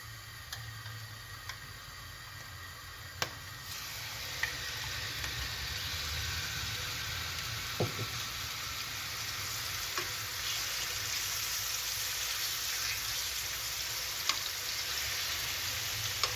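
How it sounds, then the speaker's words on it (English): Peri peri chicken sizzles steadily in a frying pan, a continuous crackling hiss with occasional sharp pops and ticks, close and fairly quiet, with no one talking. "I'll be frying some peri peri chicken"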